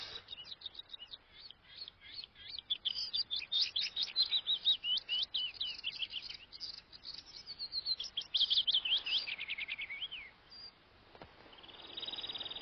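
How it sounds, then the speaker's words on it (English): Birds sing in the open sky over the Arctic tundra of Russia, a continuous run of rapid, high trilling and chirping phrases, fairly faint and alone apart from soft background hiss. "As there are no trees on the tundra, many birds sing in the sky"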